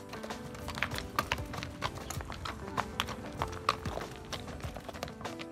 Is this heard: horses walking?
yes